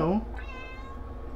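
A cat gives a single short, close meow, rising then falling, followed by quiet room tone.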